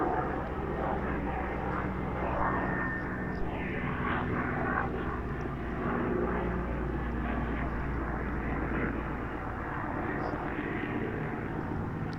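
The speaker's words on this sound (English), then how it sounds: "we have some helicopter going here" A low, steady rotor and engine drone overhead lasts throughout, constant in level, with faint background voices at times.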